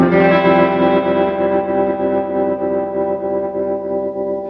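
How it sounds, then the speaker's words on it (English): An electric guitar plays through a custom-built Vintage Sound 22SC amp with quick pulsing tremolo and a big reverb. A sustained chord rings out and slowly fades with a wavering shimmer. "the really quick tremolo that's going off the board, and of course the big reverb to carry that over"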